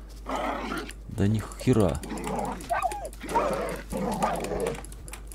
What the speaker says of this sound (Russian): Меня псы закусали. Три сраных пса.